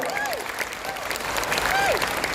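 Audience applause at an Indonesian HNI business seminar, a steady wash of clapping with a few whistle-like tones rising over it, fairly close and continuous.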